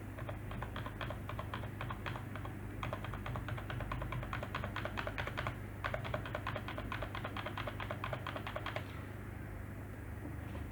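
A key on a Dell PC keyboard is tapped rapidly and over and over during a restart, a dense, even patter of light clicks with a short pause midway, over a steady low hum before the tapping stops near the end.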